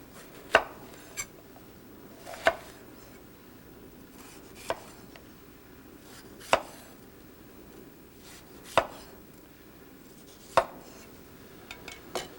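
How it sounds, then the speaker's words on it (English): A knife slices the side off a red pepper, a series of sharp, isolated chopping knocks on a cutting board spaced a second or two apart, close and clear with no talk. "Cut the side off a red pepper."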